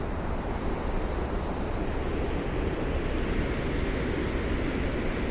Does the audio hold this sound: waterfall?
yes